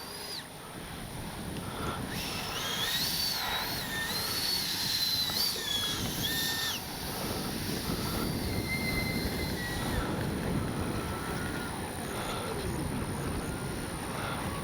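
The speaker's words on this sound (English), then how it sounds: "Man, what a great flying plane." A Freewing 80mm A-10 Thunderbolt V2 RC jet flies overhead, its electric ducted fans whining and shifting in pitch over steady wind rumble. The jet is loudest early on, then fades to a fainter, distant drone.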